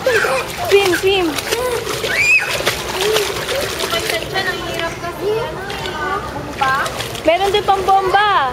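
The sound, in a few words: water splashing as a toddler swims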